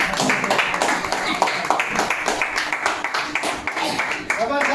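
Audience applause for a guru at a business plan event, steady dense clapping throughout, with a voice talking over it.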